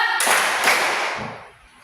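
Children in a classroom clap their hands together during an ice-breaking clap game. A dense burst of close clapping runs for about a second, then quickly dies away.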